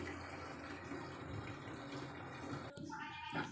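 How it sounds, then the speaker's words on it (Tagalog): A washing machine taking in water during an appliance service, a steady rushing gush that continues throughout, with a brief change in tone and a faint mechanical whir near the end. "Lumakas lalo yung pagkarga ng tubig."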